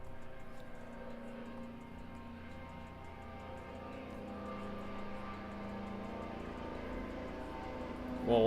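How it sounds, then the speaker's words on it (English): A steady low rumble of a large aircraft passing outside a house, with droning engine tones that hold and shift slightly, swelling a little toward the end. "why is it like a massive helicopter outside of my house?"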